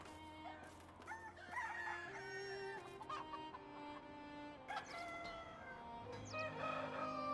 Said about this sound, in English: I have way too many roosters now